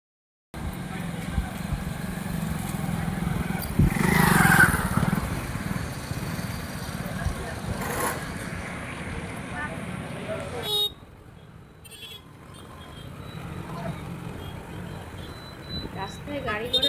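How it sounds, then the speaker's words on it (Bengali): Motorbike ride through busy road traffic, with continuous engine and wind roar, passing vehicles and a short horn toot, while voices talk over it. "আমরা কারে করে আসছি না, আমরা বাইকে করে যাচ্ছি।"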